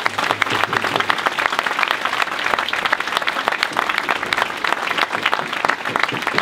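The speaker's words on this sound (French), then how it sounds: "Je voudrais aussi qu'on applaudisse les sapeurs-pompiers" A hall crowd applauds the firefighters at a mayor's address in Gravelines, producing loud, dense, continuous clapping that holds steady for several seconds without speech.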